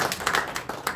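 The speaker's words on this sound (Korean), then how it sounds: "박수 부탁드립니다." Audience clapping at a press conference, a brief burst of distinct, close hand claps in an uneven rhythm lasting about a second.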